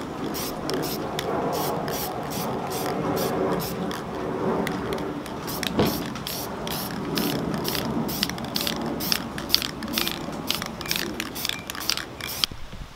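Aerosol can sprays a silver coat onto a Team Associated B6.1 RC car body in short repeated hissing bursts with faint rattles between them, while a person talks quietly in the background.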